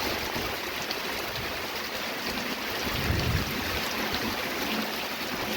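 Steady rain falling beside an outdoor cooking spot with a cow-dung fuelled clay stove, a constant broadband hiss at moderate level with no talk.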